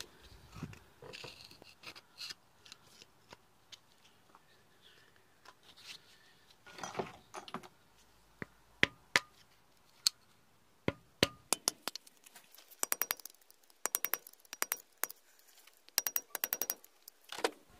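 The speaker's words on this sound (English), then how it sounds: "I'm going to try tapping this around to free it up" Sharp metallic taps on a stuck, dirt-packed front wheel bearing circlip of a 2005 Ford Transit Connect, starting sparse and quiet, then coming in louder irregular bursts of strikes toward the end.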